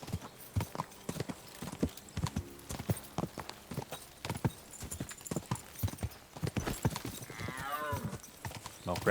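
Hooves of a horse named Mark gallop in Kingdom Come: Deliverance 2, a rapid, loud, pounding rhythm near at hand, with a brief whinny toward the end.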